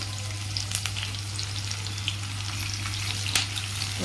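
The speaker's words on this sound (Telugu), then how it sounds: "ఈ విధంగా సన్నగా తరుక్కొని వేస్తే మనకి ఆనియన్స్ అనేవి ఫాస్ట్గా వేగిపోతాయి" Thinly sliced onions fry in oil for a mushroom pulao, a steady close sizzle with crackling pops and a low hum underneath.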